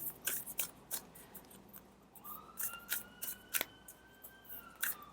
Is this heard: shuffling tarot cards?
yes